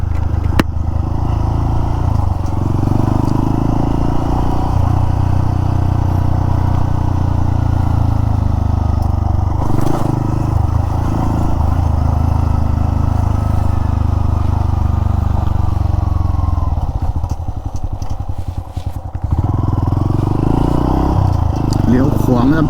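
A Honda Monkey 125 motorcycle rides steadily along a road, its mid-pitched engine droning continuously with wind rumble, loud and close throughout while someone talks over it.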